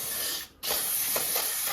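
An aerosol can of degreaser sprays with a loud, steady hiss, breaking off briefly, then resuming in a continuous close spray, onto a 1974 Bolens HT20 garden tractor.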